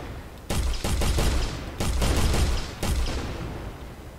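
Rapid bursts of gunfire from a first-person shooter test in Unreal Engine, loud and close, coming in three dense volleys with brief gaps and no talk.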